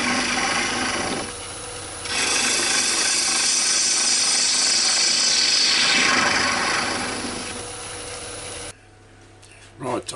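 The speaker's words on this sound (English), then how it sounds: "I've got to get rid of this tenon now." Woodturning tool cutting away a tenon from the base of a small wooden box on a lathe, a steady close scraping and rasping that runs for several seconds, then stops abruptly as the lathe quiets.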